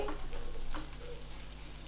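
Methi (fenugreek leaves) frying in a pan, a steady low sizzle with occasional scraping stirs from a spatula, close and fairly quiet, alone without talk.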